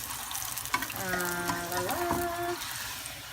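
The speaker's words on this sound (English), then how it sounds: "Flip it over and let it sizzle some more." Tortilla frying in hot grease in a pan, a steady crackling sizzle with a brief rising whistling tone partway through, heard close and without talk.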